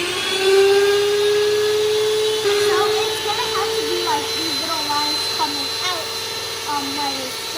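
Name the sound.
electric mixer mixing cake pop batter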